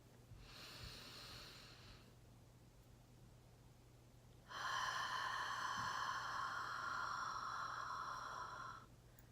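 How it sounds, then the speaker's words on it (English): A slow deep-breathing exercise: a short audible inhale, a pause, then a long, steady breathy exhale, close and soft over a low background hum. "inhale on 3, hold on 2, exhale on 6"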